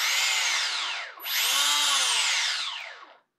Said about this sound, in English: But we can test it using the master control here for the motor